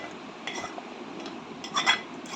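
A spoon scrapes and clinks in a bowl as burger stuffing is mixed with cornflour, quiet intermittent stirring taps and scrapes at close range.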